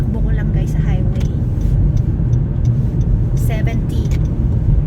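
Car cruising on a snowy highway in Canada at about -17 degrees, with a steady low road rumble and engine drone throughout, and a voice talking over it.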